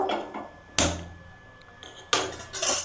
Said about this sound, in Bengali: কড়াইটা চাপিয়ে দেব।